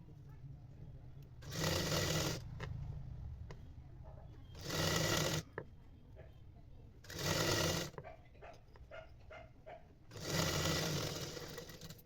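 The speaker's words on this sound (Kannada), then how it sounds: "ನೀಟಾಗಿ ನೋಡಿ ಈ ರೀತಿ ಡಬಲ್ ಫೋಲ್ಡಿಂಗ್ ಮಾಡ್ಕೊಂಡು ಸ್ಟಿಚ್ ಹಾಕೊಳ್ತಾ ಹೋಗ್ಬೇಕು" Domestic sewing machine running in four steady bursts of a few seconds each, stitching a double-folded fabric edge along the armhole of a body petticoat skirt, close and fairly loud with quiet pauses between runs.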